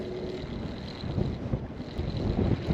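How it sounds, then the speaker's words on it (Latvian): Wind gusts buffet the microphone over Lake Liepāja, Latvia, in a low, uneven rumble, with faint water movement beneath, steady but mild and fairly quiet. "Pagaidām vējš ir normāls, vēlāk būs lielāks."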